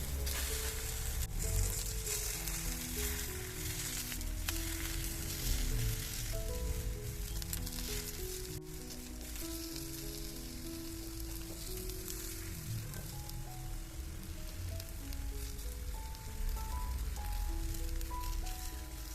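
Sliced nendran plantains sizzle in a hot pan on the stove, a continuous crackling hiss with small pops and stirring sounds. It is fairly quiet and steady throughout, with soft melodic background music underneath.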